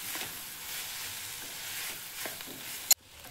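Onion and tomato with red chili powder and salt sautéing in a pan for chutney, a soft steady sizzle with faint stirring, ending in a sharp click before near silence.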